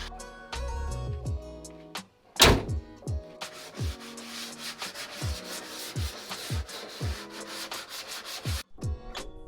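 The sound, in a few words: sandpaper sanding cut metal edges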